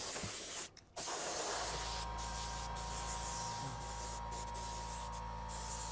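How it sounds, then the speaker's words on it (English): An airbrush spraying paint onto an EVA foam cosplay prop, a steady close hiss that cuts out briefly near the start and then runs continuously, with a low compressor hum underneath. "I love airbrushing so much."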